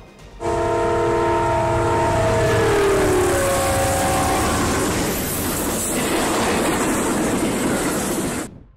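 A train roars past close by, its horn blaring in long chords at first, followed by the rumble and clatter of cars on the tracks.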